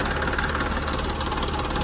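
A tractor engine runs with a steady, dense mechanical drone and faint knocking throughout, heard close and unbroken with no voices.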